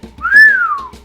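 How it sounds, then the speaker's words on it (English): One person gives a single rising-then-falling whistle of amazement, a loud, close, clear tone lasting under a second. "Bugsy whistled in amazement."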